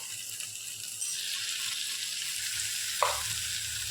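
Chicken gravy sizzles steadily in a frying pan as a paste is stirred in, a soft continuous fry with a brief louder scrape near the end.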